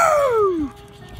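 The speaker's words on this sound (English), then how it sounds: "I'm walking my dog, Henry." A Basset Beagle mix on a walk gives a single drawn-out whining yelp that slides downward in pitch, close and loud, followed by quieter ambient noise.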